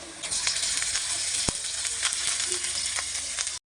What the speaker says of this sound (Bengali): পেঁয়াজ মরিচটা একটু ভাজা ভাজা হয়ে আসছে